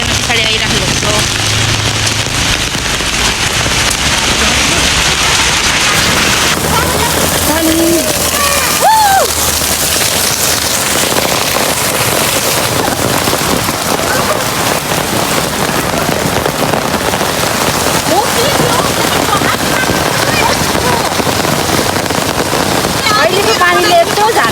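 Heavy monsoon-season rain pours steadily outdoors, a dense, constant wash of drops close to the microphone with some wind buffeting, and a voice speaks occasionally over it.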